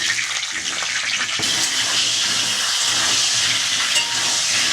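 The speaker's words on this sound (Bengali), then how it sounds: "নুন দিয়ে পটলগুলো 70-75 মতো ভেজে নেব।" Pointed gourd pieces frying with salt in hot oil give off a steady, loud sizzle with bright crackling throughout, and a brief clatter near the start as the pan is stirred.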